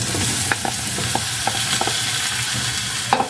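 Boiled beef innards sauté with ginger and garlic in a pan for papaitan, giving a steady, dense sizzle throughout, with a few sharp stirring clinks over it and no talking.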